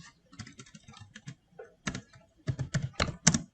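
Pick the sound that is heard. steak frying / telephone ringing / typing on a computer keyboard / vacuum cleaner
typing on a computer keyboard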